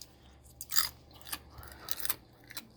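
Thin, brittle dehydrated dill pickle slice crunched between the teeth, a few short crisp crackles at close range, fairly quiet, spaced apart with chewing in between.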